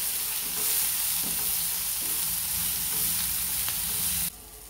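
Chopped onion frying in oil in a pan for a matar paneer masala paste gives a steady, close, even sizzle with faint stirring scrapes, heard alone until it drops off near the end.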